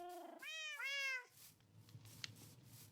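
A Minecraft cat gives two drawn-out meows close by near the start, followed by quiet game ambience.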